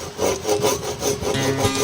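A hand saw rips along the grain of a timber pole, steady back-and-forth strokes close by and loud, with no talking.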